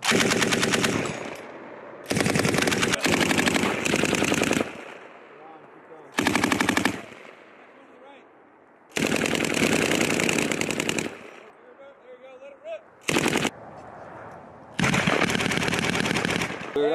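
Machine gun fire on a U.S. Marine live-fire range in Alaska, loud close bursts of rapid automatic shots lasting a second or two each, separated by quieter gaps where voices are faintly heard.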